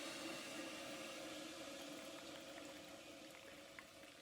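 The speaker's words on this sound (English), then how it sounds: "I'm going to do 2/3 of a cup of boiling water." Boiling water pours into a measuring cup in a home kitchen, a soft steady liquid rush with faint bubbling, quiet and continuous with no talk.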